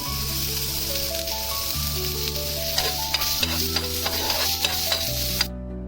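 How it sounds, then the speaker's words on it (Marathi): Onion stirred and roasted in a pan for a Khandeshi masala gravy, with steady sizzling and stirring scrapes while a sustained musical tone plays throughout. "सुरुवातीला कांदा टाकून चांगला भाजून घ्यायचा"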